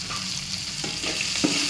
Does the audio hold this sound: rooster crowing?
no